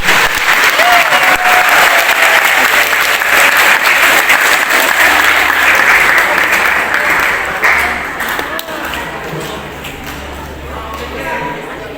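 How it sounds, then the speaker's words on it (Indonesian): An audience at a school opening ceremony gives dense, loud applause that fades partway through. A voice speaks over the clapping. "Tepuk tangannya dulu untuk Ibu Safaria Subair."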